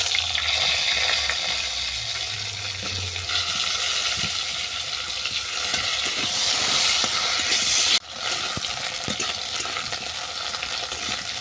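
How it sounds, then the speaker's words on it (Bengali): Potatoes fry in hot oil with black cumin, a loud, continuous sizzling hiss with stirring scrapes and small pops, heard up close with no voices. "কালো জিরে ভাজা হয়ে গেছে, এতে আমি আলুটা তুলে দেবো।"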